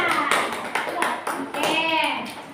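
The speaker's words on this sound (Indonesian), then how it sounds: "tepuk tangan untuk kelompok" A group claps in a short burst of applause, with a voice speaking over the clapping.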